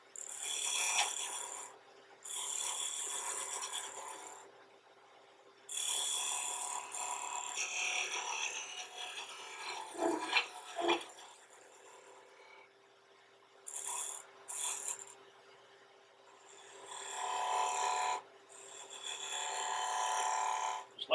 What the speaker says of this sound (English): to roll beads by simply taking the corner of this tool